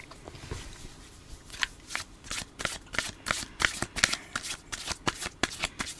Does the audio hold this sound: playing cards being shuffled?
yes